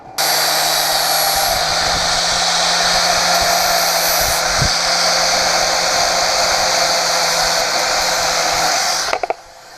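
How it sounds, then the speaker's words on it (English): Continuous high-pitched whine of an angle grinder smoothing the edges of a cut-out metal patch before welding, steady and loud for nearly the whole span, ending with a few clanks. "He's grinding it so to have smooth edges, and then we'll weld it in."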